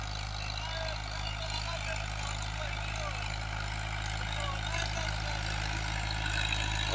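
A Fiat 640 tractor in Punjab, Pakistan, pulls a large cotton planter in second gear, its engine a steady, close, low drone that holds evenly throughout.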